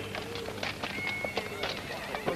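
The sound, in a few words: horses neighing and hooves clip-clopping at a stagecoach stop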